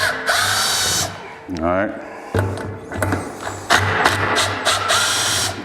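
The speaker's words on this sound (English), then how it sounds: "when I'm using this impact, I do not just go to town because you don't want to break your bit" A cordless impact driver works screws out of a 2016-or-newer Polaris RZR clutch in short, careful bursts with pauses between them, close by, and someone speaks briefly between the bursts.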